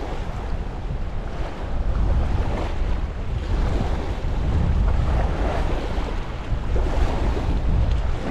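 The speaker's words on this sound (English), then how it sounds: "Man, this wind sucks." Strong wind buffets the microphone beside Cultus Lake in British Columbia, a loud continuous rushing roar with gusts swelling and easing, mixed with the wash of choppy water and no voices.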